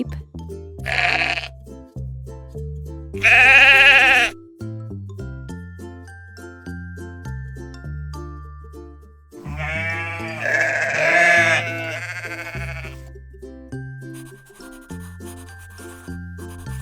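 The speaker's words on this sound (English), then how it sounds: "Sheep." Sheep bleating in two loud, wavering cries, one short and one longer, and then a third long bleat later, set against a plucked musical backing with no speech.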